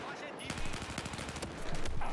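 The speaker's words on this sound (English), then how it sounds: "Sir, who's shooting at me?" Rapid bursts of automatic gunfire in Battlefield 4, a fast rattling string of shots that lasts about two seconds and grows slightly louder toward the end.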